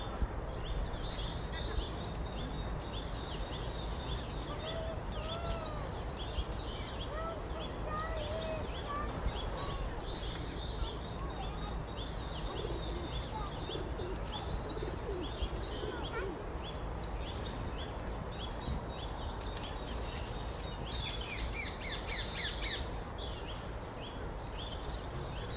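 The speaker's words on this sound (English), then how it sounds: "That's a nuthatch singing in the background." Nuthatch singing among other birds in Hyde Park, faint repeated whistled phrases and chirps set back in the distance over steady outdoor background noise.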